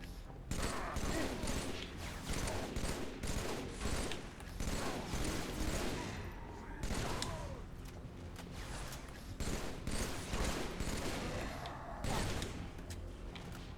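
Video game gunfire from a player's weapon, dense bursts of shots fired upward in rapid succession, loud and close with brief gaps between volleys.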